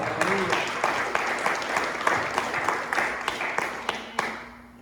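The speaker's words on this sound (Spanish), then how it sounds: "Denle un aplauso a Jesús mejor." A church congregation claps for Jesus, with scattered, uneven claps over a low murmur of voices and a preacher's talk running underneath.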